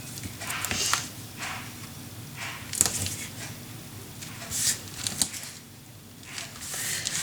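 Tape being pulled and pressed onto a handmade paper mini album, giving soft scattered crinkles and taps at close range, with a washing machine and dryer humming faintly in the background.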